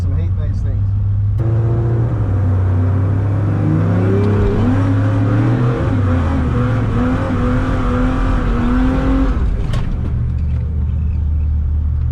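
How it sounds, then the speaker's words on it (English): Nissan Patrol doing a burnout in second gear on a drag strip on radial tyres, a close deep engine roar with rising revs and wavering pitch for several seconds before cutting off, with a voice talking over it. "So we'll try the burnout in second"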